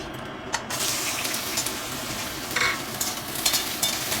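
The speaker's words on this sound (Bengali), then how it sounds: "এবারে আমি এই কাটা বেগুনগুলোকে আগে আমি ভেজে নেবো" Cut eggplant pieces fry in hot mustard oil with a loud, continuous sizzle close by, and occasional stirring scrapes sound over it. No one speaks.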